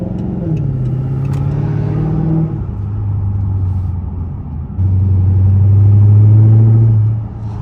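A 480hp Dodge Charger SRT8 drives with a deep, close engine rumble, shifting through revs and swelling louder in the second half before easing off.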